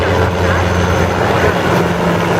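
A helicopter at a street-level heliport on Pier 6 in New York City sends out a loud, steady rotor and engine roar that fills the whole moment without pause.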